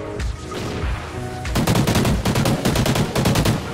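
Rapid automatic gunfire from a video game shootout, a short pause followed by dense, loud bursts of shots fired in quick succession.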